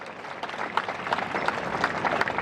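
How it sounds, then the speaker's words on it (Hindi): Applause from the crowd at a Jammu political rally welcoming the Defence Minister, steady dense clapping at moderate volume throughout with crowd noise mixed in. "और जोरदार तालियों से कृपया आप स्वागत करें।"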